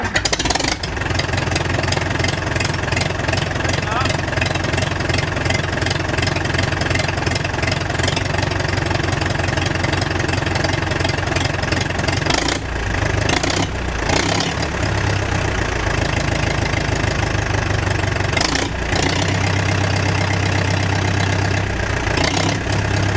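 Vintage Hans Fendt Farmer 3s tractor engine running at a steady idle, a loud, close, continuous rumble with a brief dip in level near the middle and another toward the end.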